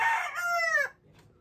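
A bullstag gamecock rooster gives one close, loud crow lasting under a second, fading quickly into quiet.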